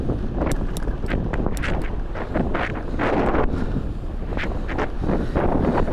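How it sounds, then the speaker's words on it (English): Heavy wind buffets the microphone in loud, rumbling gusts, with low roaring blasts and crackly bursts throughout. "but it is pretty windy today."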